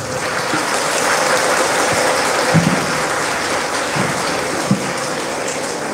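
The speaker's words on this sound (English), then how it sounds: "This round of applause," Audience applause after a lecture on King Oedipus, a sustained dense clatter of many hands clapping in a hall, steady and fairly loud for the whole stretch with a few louder claps standing out.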